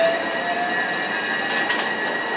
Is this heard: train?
yes